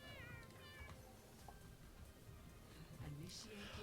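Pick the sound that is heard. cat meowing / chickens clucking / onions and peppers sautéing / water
cat meowing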